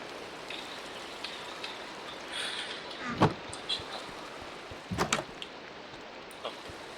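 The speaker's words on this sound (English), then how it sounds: "It's raining." Steady Minecraft rain patters as a soft, constant hiss throughout, with a few sharper clicks and thumps from gameplay breaking through.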